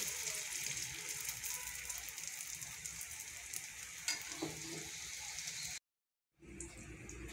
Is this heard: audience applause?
no